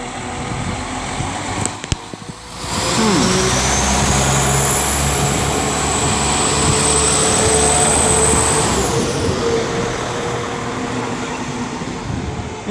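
A train rumbles steadily through Liverpool South Parkway station on the West Coast Main Line at close range for several seconds, with a high whine above the low roar, then the sound begins to fade.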